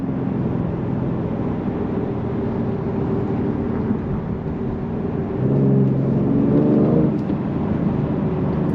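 A 2023 Genesis G70 3.3T Sport Prestige accelerates from inside the cabin, a steady engine drone rising in pitch, then shifting to a new note around the upshift, continuous and moderately loud with no talking.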